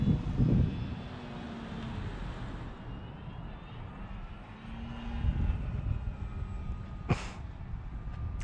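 An FMS Pitts 1400mm radio-controlled model biplane drones steadily overhead through rolls and a loop, its electric motor whine holding at moderate distance and swelling slightly at moments, with a brief sharp click near the end.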